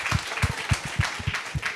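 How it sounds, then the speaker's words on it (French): A television studio audience claps rhythmically for magician Kael, giving brief, punchy, evenly spaced beats in unison, close and moderately loud. "on l'applaudit"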